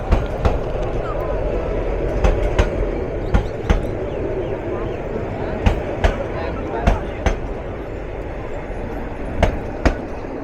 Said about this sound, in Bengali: কয়েক হাজার যাত্রী নিয়ে এইমাত্র প্রবেশ করলো train number four three up Dewanganj commutator